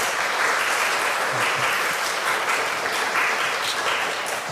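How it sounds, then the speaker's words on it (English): An audience at a poetry festival recital applauding a guest of honor: a dense, even wash of many hands clapping, sustained and close for the whole stretch with no talking. "Please give him a round of applause."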